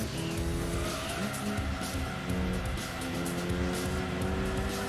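Mitsubishi Evo VI RS race car from Gran Turismo 2 drones with a steady, loud engine note throughout, tires squealing and skidding through corners with no talk over it.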